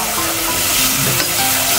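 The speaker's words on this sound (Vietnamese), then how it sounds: "chiên thịt nè mọi người thấy không chiên thịt đó mình dập cái dầu nó văng lên nó phồng vậy đó" Meat fries in hot oil, giving a steady crackling sizzle with small pops, close and continuous.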